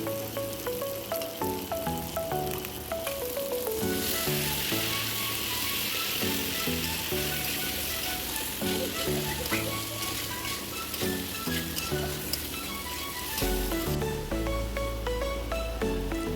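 Goat fat is stirred and fried in a pan for ghugni. A continuous crackling sizzle runs throughout, mixed with background music.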